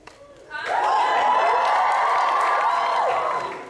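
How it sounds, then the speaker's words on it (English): A crowd cheers and whoops at the opening ceremony of the COMUN Model United Nations conference, a loud sustained roar that rises sharply and holds for about three seconds before tapering. "Can I get a cheer?"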